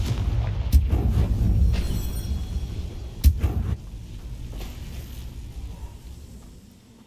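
A Confringo fire spell bursts in the video game Hogwarts Legacy, giving two loud booming blasts, one early and one midway, over a rumbling, crackling game background with no talking.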